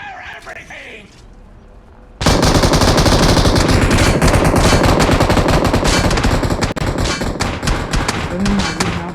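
Sustained rapid automatic gunfire from a machine gun in the battle game PUBG, loud and continuous after a quieter opening, with dense bursts layered over one another and voices talking underneath.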